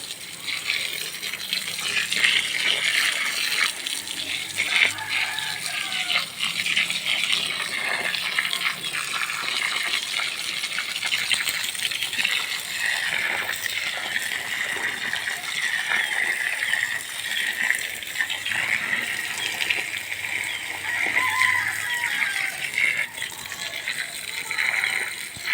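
Water gushes and splashes continuously from a well with a rushing, churning texture, steady throughout with no pauses.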